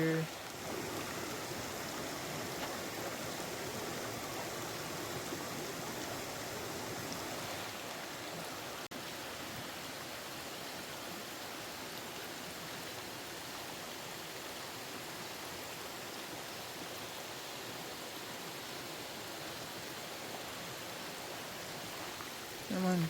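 Waterfall spilling down toward a river beside a mineral bath in Jamaica, a steady broad rushing roar that fills the whole stretch at an even level, with faint voices now and then underneath.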